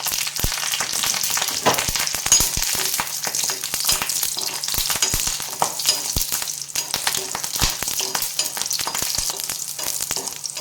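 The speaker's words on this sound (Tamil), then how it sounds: "இந்த மிளகாயை வதக்கும் போதே" Slit green chillies sauté in a teaspoon of groundnut oil, giving a steady, close, bright sizzle with frequent sharp spatters and pops throughout, no voices.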